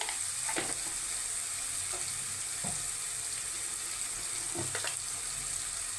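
Fish curry paste with chili powder and salt being stirred in a pan over steady frying hiss, with a few soft utensil knocks and scrapes scattered through, close and moderately loud, no speech.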